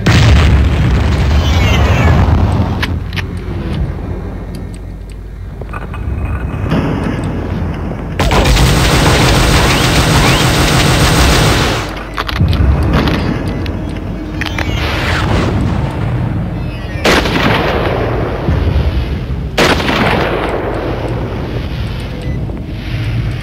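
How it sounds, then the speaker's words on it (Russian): Gunfire and explosions in the shooter game Warhammer 40000: Fire Warrior, a loud, continuous barrage of booms and blasts with bursts of heavy noise and rumble, no speech over it. "Да откуда они стреляют?"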